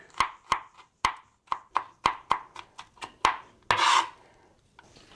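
A knife chops garlic on a cutting board in a quick series of about a dozen crisp, close taps, with a brief scraping rasp near the end as the pieces are gathered.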